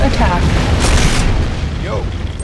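A GDI Tiberium Refinery exploding in the Renegade video game, a loud booming blast with a rumbling burst under synthetic announcer speech.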